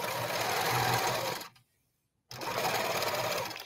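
A quilting sewing machine doing ruler work runs in a fast, even stitching whir, stops briefly to silence, then starts again at the same steady pace.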